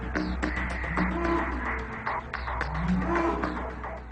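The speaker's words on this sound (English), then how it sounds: "This cow is technically known as a Belgian Blue" A Belgian Blue cow, a heavily muscled cattle breed, gives low drawn-out moos twice over a busy, steady background din.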